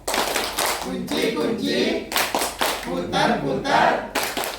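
A group in a school classroom performs a rhythmic chant-clap, the new motorbike clap, with bursts of loud, patterned hand claps repeating in several quick rounds, close and full.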